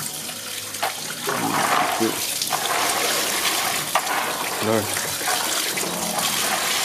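Water draining and splashing through a basket while boiled maize is washed for tortillas, a steady close running and trickling sound with brief voices speaking over it.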